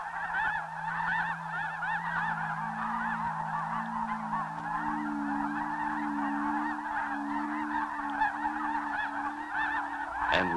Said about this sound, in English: The snow geese take to the air, continuing down the flyway to American coastal wetlands and marshes.